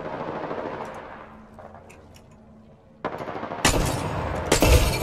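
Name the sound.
Mastiff and Wingman gunfire in the video game Apex Legends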